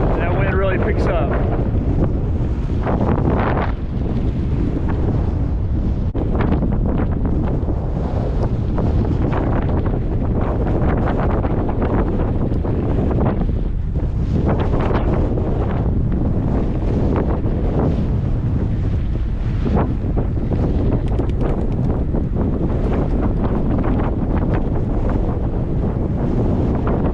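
Strong wind buffets the microphone of a cyclist riding near a ridge on a country road loop north of Gainesville, a loud, continuous rumbling roar that surges and gusts throughout.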